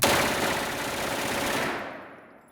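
An MP5 submachine gun fires one sustained full-auto burst at close range, loud and dense for about two seconds before cutting off and ringing away.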